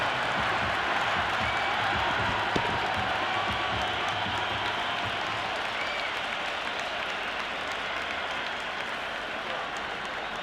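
A packed cricket stadium crowd at an India versus Pakistan match roars and applauds after a six, a continuous loud wash of clapping and cheering that holds steady across the whole stretch.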